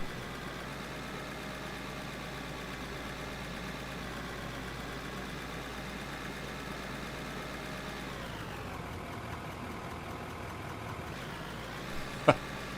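A vehicle engine runs steadily in the video game Out of Ore, a low, even idle-like hum that is fairly quiet. Partway through it drops in tone and then resumes, followed by a brief click near the end.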